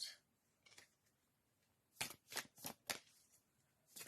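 Quiet oracle card shuffling: a few soft riffles early on, then a quick burst of four or five crisp riffling bursts, close by in a quiet room.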